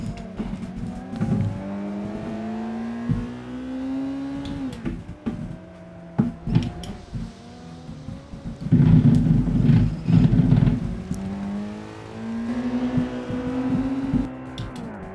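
Honda S2000 rolling into the pits at Oulton Park race circuit, its engine note rising and falling through gear changes, with a louder surge of revs around the middle and a brief tire squeal, close and continuous.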